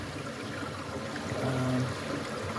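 Running stream water on the Appalachian Trail near Mahoosuc Notch, Maine, a steady close trickle and gurgle that swells slightly midway, with no voices.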